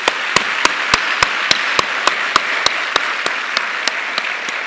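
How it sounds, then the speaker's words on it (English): An audience at an official opening plenary session applauds its guests with dense clapping, punctuated by loud, evenly spaced synchronized claps landing roughly three times a second, close and steady. "Please, can we do another energetic clap for our guests?"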